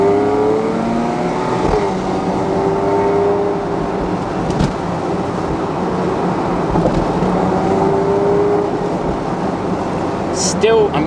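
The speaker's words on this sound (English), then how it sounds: "there's not a great load of throttle blip on downshift like you got with the M3" A Porsche 997.2 Carrera 4S cabriolet engine drones steadily while driving, its pitch stepping through gear changes on downshifts with little throttle blip. Someone talks over the engine noise.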